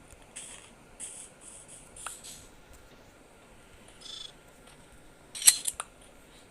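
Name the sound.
using shears on sheep for wool in Minecraft video game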